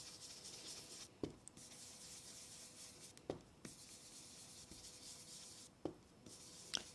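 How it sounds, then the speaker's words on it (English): A small blending brush rubs saltwater taffy ink onto paper in soft, close swishing strokes, with brief louder scrapes every couple of seconds. "I'm going to take the saltwater taffy ink and a little blending brush here and just apply the ink"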